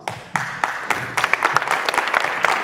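Audience applause for a performer on a French music talk show stage, a steady roar of many hands clapping that swells after a brief opening burst and carries on dense and lively throughout.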